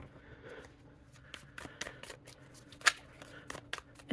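A deck of Nosotras tarot cards with softened cardstock is shuffled by hand, giving soft papery riffles and a string of crisp flicks and snaps that come close and quiet, with one sharper slap partway through.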